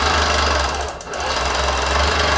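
A longarm quilting machine stitches a quilt with a steady, fast mechanical hum and a rapid needle chatter, loud and continuous with a brief dip near the middle.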